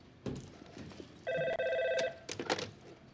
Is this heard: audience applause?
no